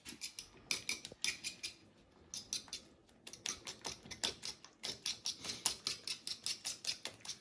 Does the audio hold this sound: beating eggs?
yes